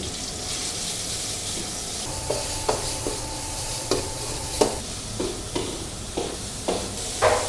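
Minced pork stir-fried for a basil stir-fry in a hot pan, a constant sizzle broken by repeated clanking scrapes of the spatula at an uneven rhythm, close and alone without talk.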